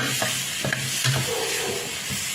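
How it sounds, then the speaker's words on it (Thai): Chili and garlic stir-fried in a pan without water, with a steady close sizzle and a few soft scrapes of stirring. "ผัดพริกกระเทียมให้หอมๆนะคะ"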